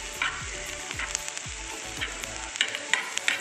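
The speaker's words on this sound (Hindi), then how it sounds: "ऑयल गर्म हो गया है, मैं इसमें ऑनियन डालूँगी, ग्रीन चिली, थोड़ा ब्राउन होने तक मैं सौते करूँगी ऑनियन" Chopped onions and green chilies sauté in hot oil in a pan, a steady close sizzle with soft scraping stirs and a few dull low knocks, no voices.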